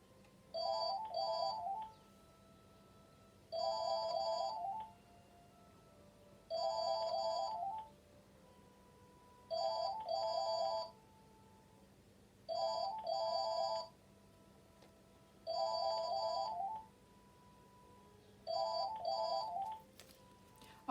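A phone rings in repeated electronic bursts, seven rings spaced evenly with short pauses between, fairly quiet and alone.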